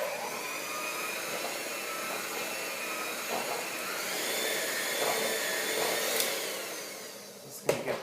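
Electric mixer whirring steadily through banana bread batter with oats, flour, salt and baking soda, a continuous close motor drone with a brief clatter at the end.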